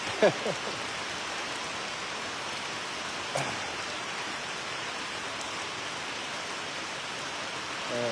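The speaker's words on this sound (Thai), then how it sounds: "ถ้าฝนตกอย่างนี้อากาศก็เย็นสบายเนาะ" Steady rain falls at Phrao in Chiang Mai, a dense and even wash of drops that continues throughout, with a couple of brief faint knocks early on.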